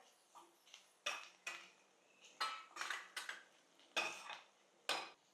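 A spoon scrapes and clatters around a pan, mixing turmeric into cooked tomato in about nine distinct, close strokes with quiet pauses between.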